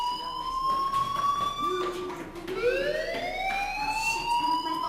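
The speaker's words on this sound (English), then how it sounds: "do you hear that fire alarm?" Fire alarm in the video game Life is Strange, a loud electronic wail with pitch sweeping up and down in repeated cycles, sounding continuously without voices.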